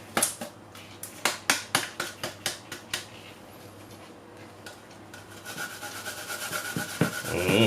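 Garlic rubbed against a metal grater while cooking Jamaican curry chicken, a quick series of about a dozen close, crisp scraping strokes, then a quieter pause and softer continued rubbing.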